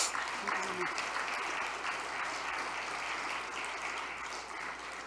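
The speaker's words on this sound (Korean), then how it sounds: "우리 큰 박수로 한번 맞이할까요?" A church congregation applauding during a Sunday service as choir members come forward, steady enthusiastic clapping filling the room from a distance, fading slightly toward the end with talk underneath.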